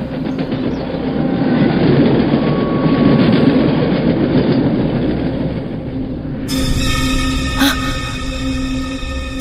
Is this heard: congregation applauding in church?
no